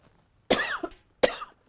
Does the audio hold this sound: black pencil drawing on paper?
no